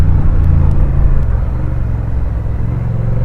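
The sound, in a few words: Honda big bike motorcycle engine in first gear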